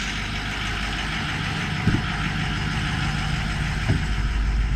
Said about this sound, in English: as you can hear, the motor's smooth